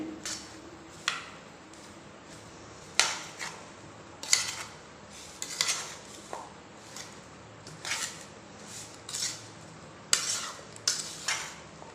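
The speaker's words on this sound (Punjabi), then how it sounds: "ਹੁਣ ਇਹਨਾਂ ਨੂੰ ਸਾਰੇ ਮਸਾਲਿਆਂ ਨੂੰ ਆਪਾਂ ਚੰਗੀ ਤਰ੍ਹਾਂ ਮਿਕਸ ਕਰ ਲੈਂਦੇ ਆ" Spices being mixed into a pear and guava chaat, giving a series of irregular clinks and scrapes of a utensil against a dish, some sharper than others, with a quiet room in the background.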